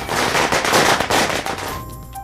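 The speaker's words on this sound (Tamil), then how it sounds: "தமிழக அரசின் இந்த உத்தரவை வரவேற்று பட்டாசு வெடித்து கொண்டாடினர்" Students at a forestry college in Mettupalayam near Coimbatore set off firecrackers to celebrate, a loud, dense string of rapid cracking bursts that stops abruptly near the end.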